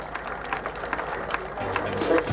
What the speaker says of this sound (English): Big round of applause for the winner of the end final from New Zealand